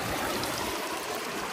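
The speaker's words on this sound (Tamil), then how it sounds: "ஏன்னா இது வந்து தண்ணி ஓடுற தண்ணி" River water running over shallows in Pollachi, a continuous close hiss of flowing water, steady and fairly soft with no voices.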